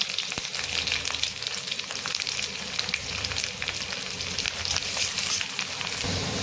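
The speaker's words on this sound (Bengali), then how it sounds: "এখানে আদা রসুন কুচো একটু ভেজে নিয়েছি।" Refined oil sizzles steadily as chopped ginger and garlic fry in a kadai, a dense crackling hiss close by with a few faint clinks.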